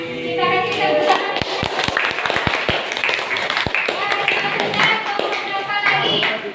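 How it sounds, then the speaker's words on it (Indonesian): Students in a classroom clap together after a group presentation, with a burst of sharp, close handclaps at first, then scattered claps and a teacher's voice carrying on over the room. "Kita kasih tepuk tangan."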